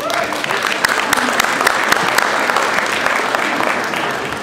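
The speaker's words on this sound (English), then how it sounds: "let's give Eric a round of applause." An audience claps loudly and continuously, a dense wash of applause from a room full of people in a car dealership showroom at a 2013 Mercedes-Benz SL550 launch event.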